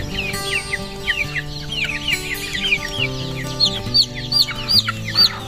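Native chickens on a farm cluck and chirp busily at feeding time, a dense close chorus of short overlapping calls with a few louder bursts toward the end.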